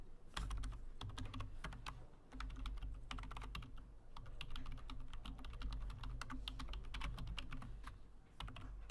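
Rapid, irregular clicking of keys on a computer keyboard as someone types, close and clear, running steadily with brief pauses.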